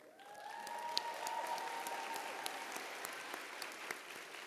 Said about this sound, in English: If we can keep the applause going for Malachi Mangoshi on the piano